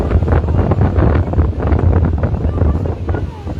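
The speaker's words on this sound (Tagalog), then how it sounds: "Grabe, lakas ng alon." Strong sea waves roll and crash at Lingayen beach in Pangasinan, a continuous loud surging roar mixed with heavy wind buffeting the microphone.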